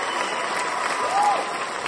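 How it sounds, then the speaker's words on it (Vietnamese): Studio audience applauds for Mai Phuong on a televised singing competition, a brief, steady burst of crowd clapping with a light lift of cheering near the end. "Một tràng pháo tay cho Mai Phương."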